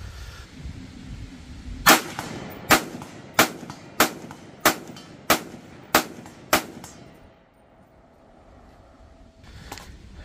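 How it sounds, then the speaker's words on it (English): Eight sharp rifle shots fired rapidly off a rest at a silhouette target about 100 yards out, each about a second apart and loud and close, followed by quiet and one fainter shot near the end. "try to do kind of a rapid fire off the bag there at that silhouette there"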